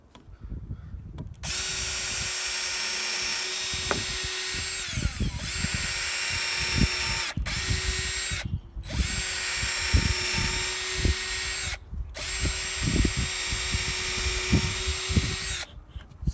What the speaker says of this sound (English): starting off small with a 3/32 drill bit